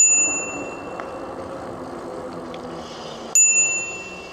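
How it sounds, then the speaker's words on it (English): Bicycle bell rung twice while riding through a park-like area, a bright ring at the start and another sharp ding near the end over quiet outdoor background. "we're gonna have to hit her with the bell here."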